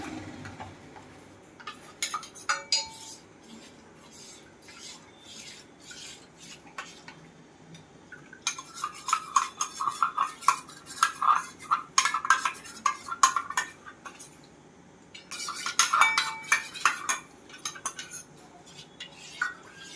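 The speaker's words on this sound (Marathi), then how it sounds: "आणि बेसन आपल्याला या मिक्स करायचं आहे." A spoon scrapes and clinks against a metal pot in bursts of brisk stirring of a gram flour mixture for raw mango kadhi, separated by quieter pauses; no one speaks.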